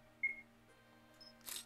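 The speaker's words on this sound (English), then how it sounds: "that shutter noise is hella loud" A single loud, crisp camera shutter click near the end, sharp and close, after a quiet stretch with low background hum and a faint brief tone.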